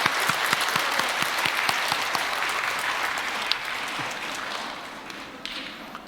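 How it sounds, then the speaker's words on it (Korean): A church congregation applauds to welcome visiting elementary school students, sustained crowd clapping with a few distinct near claps early on, gradually fading toward the end. "우리 학생들 환영합니다. 축복하며 박수할까요?"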